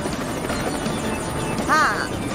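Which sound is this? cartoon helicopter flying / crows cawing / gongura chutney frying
cartoon helicopter flying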